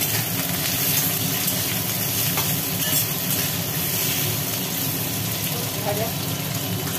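Thinly sliced potatoes frying in hot oil with onion and black cumin: a loud, dense, continuous sizzle and hiss fills the whole stretch at an even level, with no talking.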